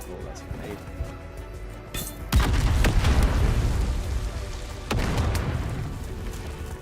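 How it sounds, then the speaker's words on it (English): A grenade blows up in Dune Awakening with a loud, heavy boom that rolls on for seconds, and a second blast follows shortly after, all under someone talking. "Oh, that's a grenade."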